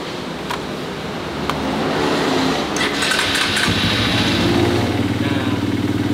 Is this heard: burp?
no